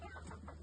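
Chickens cluck softly in a household poultry yard kept for eggs, a few short, faint clucks spread across a brief moment with no talk.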